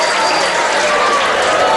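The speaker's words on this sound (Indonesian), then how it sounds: "Tepuk tangan buat Faisal." Students at an Islamic boarding school gathering clap together for a boy called up to the front, a dense, steady burst of crowd applause filling the moment without a break.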